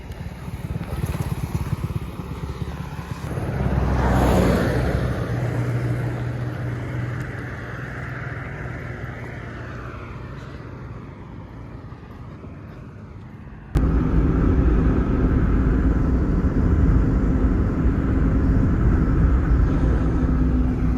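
Motorcycle ride along a road in Bhimber, Azad Kashmir: a steady engine drone and wind rush throughout, with a brief surge near the start and a sharp jump in loudness partway through.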